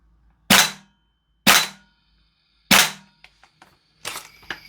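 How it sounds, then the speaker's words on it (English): Three sharp, loud pops from a Toxicant XM5 CO2-powered airsoft gun being dry fired, evenly spaced about a second apart, followed by small mechanical clicks and a hissing burst of leaking gas. "So we'll do a couple of dry fire shots and we'll put some ammo in it."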